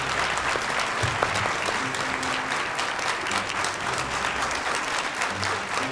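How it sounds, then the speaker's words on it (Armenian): A large audience claps continuously and loudly as a judge comes onto the stage at a Got Talent Armenia 2026 quarterfinal, with dense, even applause filling the hall throughout. "Ձեր բուրըն ծափերի ներքո դիմավորենք"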